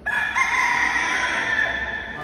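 A rooster crows in one long, steady, harmonic call lasting about two seconds, close and fairly loud; it comes from fowl kept on a university campus in La Laguna, Canary Islands, with no voices present.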